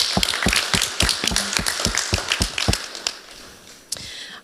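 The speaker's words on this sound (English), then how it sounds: "And again, an applause for that," A small audience at a women-in-pipe-bands panel discussion gives brief applause, with sparse, distinct hand claps close by that thin out and fade after a few seconds.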